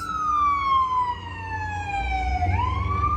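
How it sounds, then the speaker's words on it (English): A loud wailing ambulance siren sweeps downward as it passes, then rises again, with New York City road traffic rumbling underneath. "Look, there goes an ambulance."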